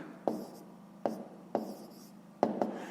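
Hand-written fractions being filled in as answers for a fifth-grade maths exercise: four short scratchy pen strokes, close and fairly quiet, spaced irregularly with gaps of low room hiss between them.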